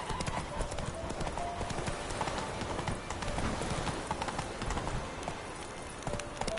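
Roach the horse galloping in The Witcher 3, a fast, continuous clip-clop of hooves close by, with faint talk beneath.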